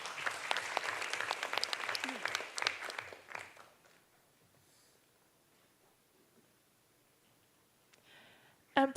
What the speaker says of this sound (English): Please give them a warm round of applause to congratulate them.